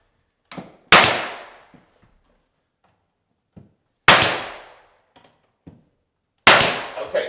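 Nail gun firing into door trim, three sharp loud bangs spaced a few seconds apart, each with a short ringing decay, with faint taps and handling noises between shots.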